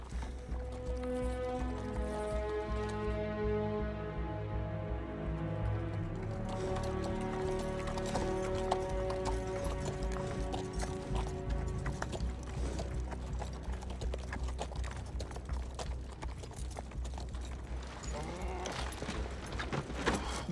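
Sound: horses trotting, hooves clip-clopping

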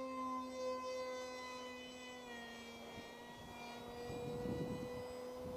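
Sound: RC F-18 model jet flying close by

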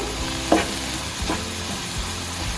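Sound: stirring green chillies sautéing in a pan

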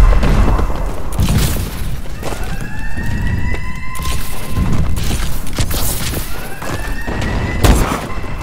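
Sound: bombing run explosions in a video game

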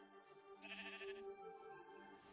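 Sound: sheep bleating in Minecraft video game

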